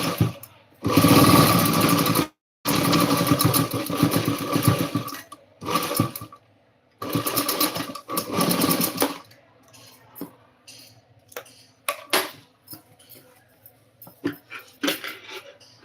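A sewing machine stitches a blouse sleeve in loud close runs of rapid whirring, stopping briefly several times, then gives way to quieter handling noises and short bursts toward the end.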